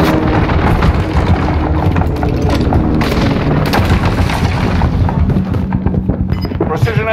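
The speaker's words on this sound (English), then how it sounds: "Precision airstrike missed." Precision airstrike in Warzone: a dense, continuous barrage of heavy booming explosions rolls on for the whole stretch, loud and close, with game radio chatter mixed in.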